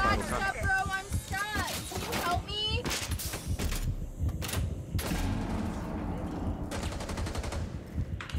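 Rapid bursts of automatic gunfire and single shots in a tactical shooter video game, loud and dense, with players talking over the shooting.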